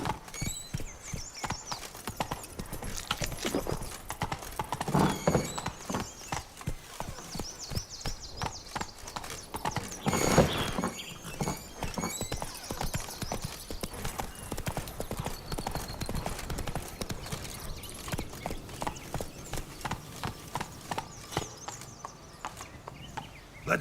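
Roach the horse trotting in The Witcher 3: Blood and Wine, with a steady clip-clop of hooves on a hard path and an occasional whinny. The hoofbeats run close and continuous throughout.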